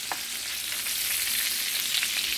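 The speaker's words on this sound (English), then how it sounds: "Y'all just want to sear them." Meat searing in a hot pan for Jamaican-style cooking gives a steady, close sizzle and crackle that holds evenly throughout, with no voices.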